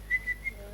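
A person gives three short whistled notes in quick succession at one steady pitch, close and moderately loud, over a faint low hum.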